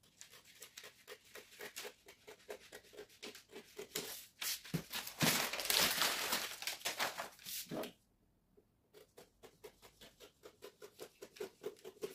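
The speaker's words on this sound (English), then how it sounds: "So now let's go ahead and cut the pattern." Scissors cutting a paper sewing pattern for an off-shoulder sleeve, quiet rhythmic snips and rustling paper close by, a louder crinkling burst midway, then more snipping.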